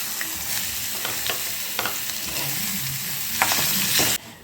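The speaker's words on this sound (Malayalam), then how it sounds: "നമ്മുടെ തേങ്ങ നമ്മളിത് ഈ പരുവത്തിന് വറുത്ത് വെച്ചിട്ടുണ്ട്" Small chopped coconut pieces fry in ghee in a pan, a steady close sizzle with scraping stirs throughout that cuts off near the end.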